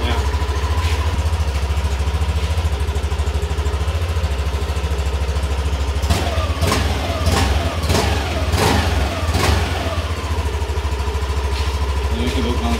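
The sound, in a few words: scooter stock exhaust pipe idling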